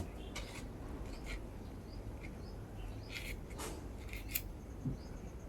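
A knife slices through a peeled mango, giving a few soft, brief cutting and scraping sounds spaced irregularly over a quiet background hiss, without speech.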